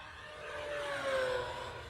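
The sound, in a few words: E-flite 1.5m RC model warplane flying at full throttle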